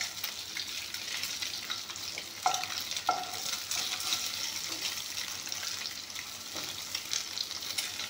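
Sliced eggs sizzle steadily in hot oil in a pan while being stirred and flipped with a utensil, with a couple of sharp scrape-clicks against the pan amid the continuous frying hiss.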